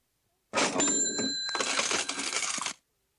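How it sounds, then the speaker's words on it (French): A cash register rings up a sale: a bright bell chime over a clattering mechanical drawer rattle, close and loud, lasting a couple of seconds. "La caisse enregistreuse de Mélissa."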